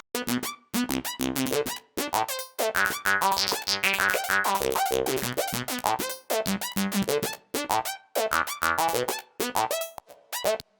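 A synth lead plays a quick, choppy sequence of bright notes with echoing repeats, staccato bursts separated by short gaps.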